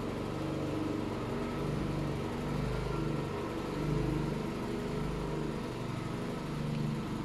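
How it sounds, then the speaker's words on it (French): A steady low engine drone runs throughout at a moderate, slightly distant level, a neighbor's lawn mower idling and working nearby with small surges. "je crois que c'est le voisin qui se met à faire la tondeuse"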